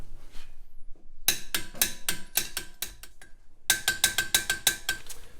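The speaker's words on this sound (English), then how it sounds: "get your torque wrench set to 130, and this is going to be the 22 millimeter again. So let's go ahead and we'll get these guys tightened down" A torque wrench set to 130 ratchets on 22 mm lug nuts, tightening a Spidertrax wheel spacer on a JL Jeep Wrangler: two bursts of crisp, rapid clicks, close and loud, separated by a brief pause.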